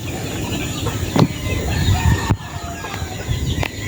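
Chicks and chickens cluck and peep nearby on a small poultry farm, with scattered short calls over a steady outdoor background and a sharp knock midway.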